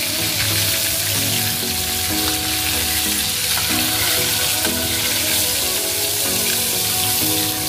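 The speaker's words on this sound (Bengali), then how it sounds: "এবার মাছগুলো হালকা ভেজে তুলে নিচ্ছি।" Amudi fish frying lightly in hot oil, a steady loud sizzle and crackle throughout with faint utensil stirring and no voices.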